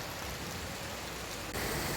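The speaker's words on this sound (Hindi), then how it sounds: "तो बहुत बारिश हो रही है," Heavy rain pours down in Ahmedabad in the evening, a steady dense hiss of water close around, with a brief shift partway through before the downpour carries on just as strongly.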